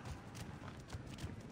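Horse hooves clip-clop in an Assassin's Creed game scene set near an Egyptian temple, a steady run of soft, close hoofbeats with no voices over them.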